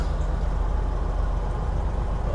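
A tractor-trailer at a loading dock idles and rumbles with a steady low engine drone while preparing to reverse up to a dock door, loud and continuous with no talk.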